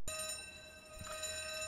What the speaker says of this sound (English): The alarm is definitely going. You can hear it chiming all the way through the...